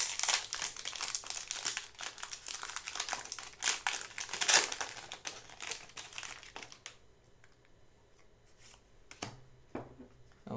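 Trading card booster pack foil crinkling and tearing open up close, a busy run of crackly rustles that thins out into a few quieter handling sounds.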